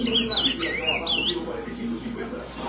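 A blue grosbeak (azulão) perched on a person's hand sings close by, bright whistled phrases rising and falling twice over a low murmur of background voices.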